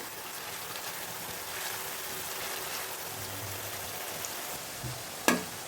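Spice paste for chicken biryani, with green chilli paste, frying in a pan: a steady, even sizzle runs throughout, with a couple of brief clinks of a utensil near the end.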